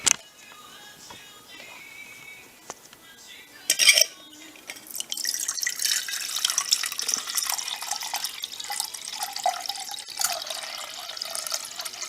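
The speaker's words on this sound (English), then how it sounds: "Put 16 ounces of water in it." Water poured into a backpacking cook pot, a steady broadband splashing and trickle that starts partway through and runs continuously, close and fairly loud, after a few brief clinks of the pot.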